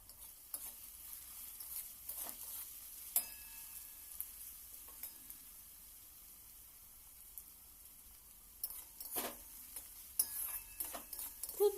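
Cabbage Manchurian vegetables, onion and capsicum, being stirred and fried in a pan: quiet sizzling under a string of spoon scrapes and clinks against the pan, sparse at first and busier toward the end.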